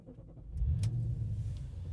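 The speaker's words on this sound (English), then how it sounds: "Go ahead and start the car up." An Audi RS4 B7 engine starts up close by, catching and settling into a steady, loud, deep idle rumble with a brief sharp click near the start.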